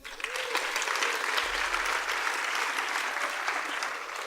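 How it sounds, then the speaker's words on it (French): Sustained audience applause at an arts recognition gala in Laval, dense steady clapping from a large crowd at even volume throughout. "Alors, on les applaudit."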